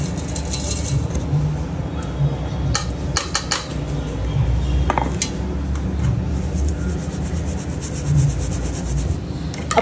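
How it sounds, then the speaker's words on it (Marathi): Ground sabudana flour is sifted through a sieve in a kitchen, giving a steady close scraping, rubbing rasp with light metallic taps and occasional knocks throughout. "आता आपण हे चाळून घेऊया।"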